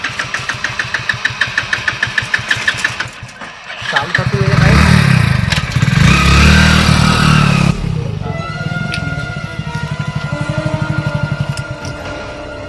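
A motorbike putters at idle, then roars louder as it revs and pulls away before settling back to a steady idle, with voices talking over it.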